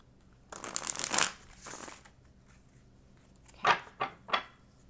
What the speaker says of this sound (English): we're going to have one more shuffle